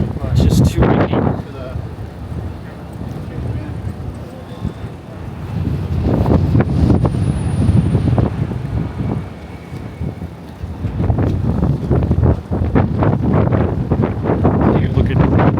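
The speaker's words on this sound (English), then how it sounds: "It's just too windy." Strong cold wind gusting at Hudson Yards in Manhattan, a loud broadband roar buffeting the microphone in surges, easing briefly mid-way before building again.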